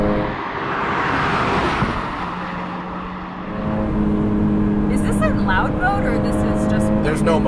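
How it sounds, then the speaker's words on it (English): A Subaru BRZ engine roars under load up a canyon road, its pitch climbing steadily as it revs hard to redline, with someone talking over the rising engine noise. "And they're perfectly happy revving all the way to the red line."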